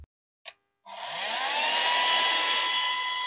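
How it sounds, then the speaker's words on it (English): A household vacuum cleaner switches on after a couple of short clicks, rising to a steady, loud whining drone that holds for the rest of the moment, with no talk over it. "Is that our vacuum?"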